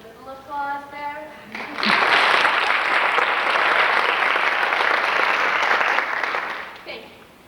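A studio audience on a television set bursts into loud, sustained applause after a short spoken lead-in, the dense clapping swelling quickly, holding steady for several seconds, then tapering off at the end.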